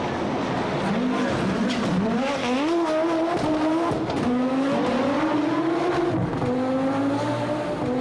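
A 600 hp Audi Sport Quattro S1 rally car races up the Pikes Peak hillclimb, its engine wailing loud and close through rising and falling gear sweeps, with tyre squeal and skidding mixed in throughout, no talking.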